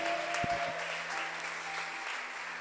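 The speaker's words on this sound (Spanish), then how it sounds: "Le damos otro fuerte aplauso." A church congregation gives steady, moderate applause, with a few louder claps standing out near the start and a faint tonal hum beneath.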